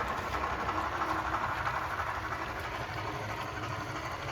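A Reading 2-8-2 Mikado model locomotive runs with a steady, fairly quiet rolling rumble and light rail clatter, continuous and close throughout.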